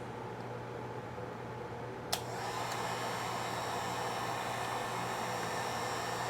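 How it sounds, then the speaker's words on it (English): A heat gun running on its low setting, powered from a UGREEN PowerRoam 600W portable power station, starts with a click and settles into a steady, close, even blowing hiss over a constant low hum. "here's the heat gun on low"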